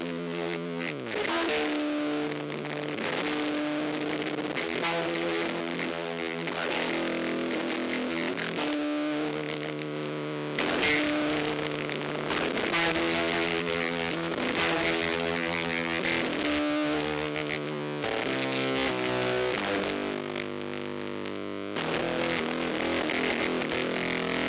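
Electric guitar played through a Little Bear Fuzz pedal with the distortion turned up and the mix lowered: gritty, saturated chords and sustained notes ring out alone in a steady riff with short pauses between phrases.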